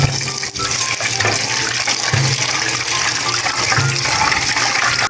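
Steady running water splashes over glutinous rice being rinsed in a bowl, a close, continuous wash with faint clinks and sloshing, no talking.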